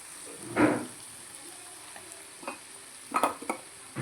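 Cabbage curry being scooped from a pan into a bowl: a few close spoon scrapes against the pan in short bursts, with a faint background hiss and quiet gaps between scoops.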